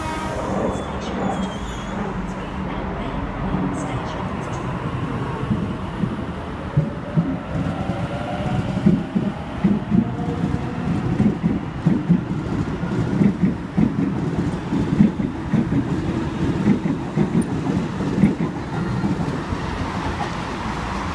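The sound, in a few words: Sydney Trains V set train approaching platform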